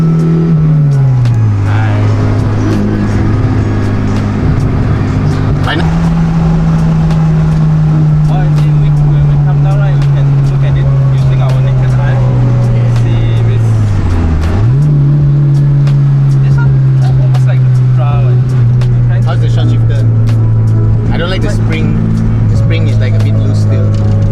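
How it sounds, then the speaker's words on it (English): A Proton Saga with a SOHC 4G93 engine driving on a race track, heard from inside as a loud, steady engine drone that rises in pitch and then drops sharply at several gear shifts. "Sean is driving the Saga right now"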